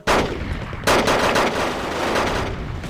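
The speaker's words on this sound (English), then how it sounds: "MiG-21 even going in for a gun run with 23mm minigun." A MiG-21 makes a 23mm cannon gun run in the Wargame Airland Battle video game: loud, dense, rapid cannon fire in a sustained burst that restarts after a brief dip, with no talking.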